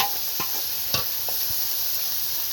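Chopped cauliflower fries in oil left from frying rohu fish, a steady hiss with a few soft stirring scrapes, close and continuous without talk.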